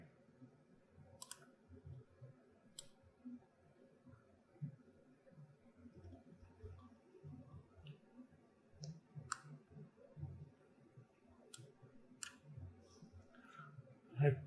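A computer mouse gives a handful of sharp, isolated clicks spread irregularly across a quiet room, faint and close, with low murmuring speech underneath.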